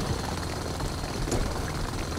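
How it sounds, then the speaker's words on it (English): A hand drill mines an asteroid in the Space Engineers video game, giving a steady, loud, dense grinding roar that holds without a break for the whole moment, with no talking. "That very loud drilling sound."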